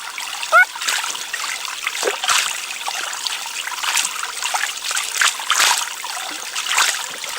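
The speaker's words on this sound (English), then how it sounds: "cloth, cold running water" Cloth being washed by hand in a cold, shallow jungle stream: steady trickling and splashing water with soft wringing and slapping bursts, close by and continuous, with no voices.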